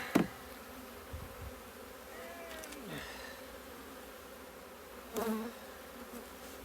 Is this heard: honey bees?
yes